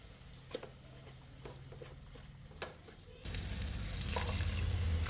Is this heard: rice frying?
yes